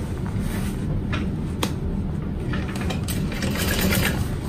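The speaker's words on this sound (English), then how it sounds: "And then we're gonna sew up this lining pocket." A sewing machine stitches a lining pocket for a duffel bag with a steady, close mechanical hum and whir, plus a few faint clicks.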